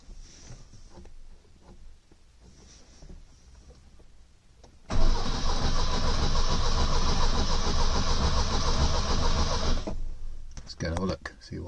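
Starter cranking a 1970 Lancia Flavia Berlina with the choke partly off, a loud sustained churning that runs for several seconds without the engine catching, preceded by quieter background noise and faint voices.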